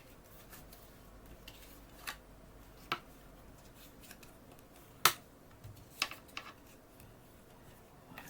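Small notches being cut into a cardboard post-it and pencil box, heard as a handful of sharp, isolated snips and clicks spaced a second or so apart, faint and close, over a quiet room.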